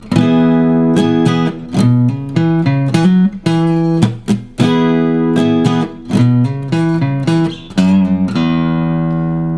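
A slow, clean guitar lead line, single plucked notes ringing one after another with short gaps, played alone and up close.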